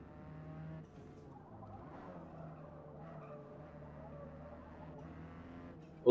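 A Ford Sierra Cosworth in the Forza Motorsport racing game holds a low, steady engine drone with faint tonal layers, ending in an abrupt loud burst of noise.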